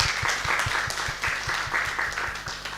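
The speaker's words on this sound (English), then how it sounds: "Let's clap for our candidates." A seated audience at a live ward election debate in Naivasha, Kenya claps for the candidates, a moderate, fairly steady patter of hands with a rhythmic knocking underneath.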